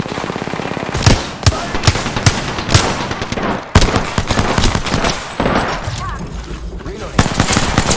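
Rapid automatic gunfire fills a match of the battle royale game Apex Legends, with sharp bursts and single shots close and loud, mixed with a player's voice talking over the shooting.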